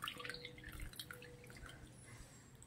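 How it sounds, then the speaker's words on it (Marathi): Jaggery water strained through a sieve and poured into wheat flour for gulgule batter, heard as a faint, quiet trickle and dripping. No talk. "आणि ते पाणी मी चाळून ह्याच्यात ओतणार आहे"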